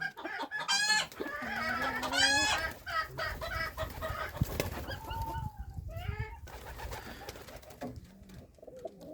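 Chickens cluck and squawk repeatedly nearby in a village yard, a busy mix of clucks and calls with a few louder cries, no voices.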